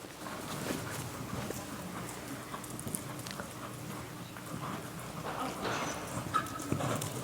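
A dressage horse canters in an arena through a flying change, its hoofbeats soft and rhythmic at a moderate distance over faint background noise, with no talk.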